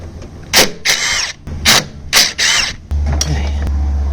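10 mm bolts coming off an Acura TL Type-S: several loud, short whirring bursts from a power tool, close by and separated by brief pauses, followed by a steady low hum.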